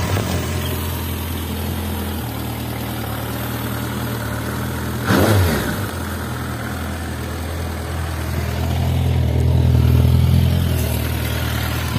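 A 2007 Suzuki Bandit 1250 S motorcycle with a long stainless steel silencer starts with a short loud burst, then settles into a steady idle, rising slightly in revs toward the end, close and alone.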